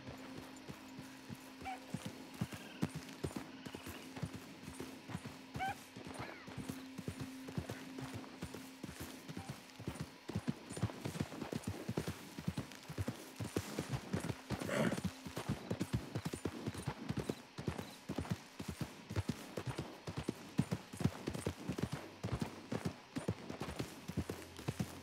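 Horse hooves clip-clop steadily in Red Dead Redemption 2, a continuous rhythmic clatter of a ridden horse with ambient game sound and occasional distant gunfire-like pops, fairly quiet throughout.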